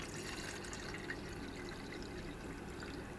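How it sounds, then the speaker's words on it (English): Water, about 500 millilitres, is poured into a small kettle for a spirit stove boil test, a faint and steady trickle and splash that runs without a break and with no talking. "Right, so we put the water into the kettle."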